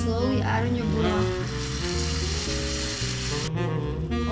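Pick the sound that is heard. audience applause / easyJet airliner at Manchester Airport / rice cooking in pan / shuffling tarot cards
rice cooking in pan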